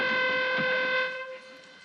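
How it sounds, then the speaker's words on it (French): A foghorn-like warning horn sounds a steady, strongly tonal blast that holds for about a second, then fades away. "c'est quoi la corne de brume, comme ça? C'est pour avertir."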